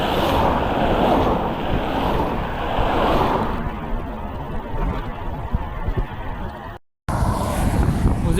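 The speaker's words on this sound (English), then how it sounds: "the wind's starting to really pick up" Wind noise rushes over the microphone while cycling along the A367 Radstock Road near Stratton-on-the-Foss on a sunny, gusty day: a loud, continuous buffeting roar that swells and eases, with a brief dropout near the end.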